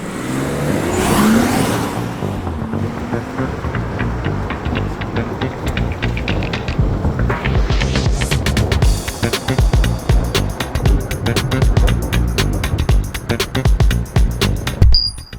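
A car cruises along a highway in Portugal, giving a loud, steady in-cabin road rumble and engine drone, with a sweeping rush near the start and a brighter tire and wind hiss building over the last half.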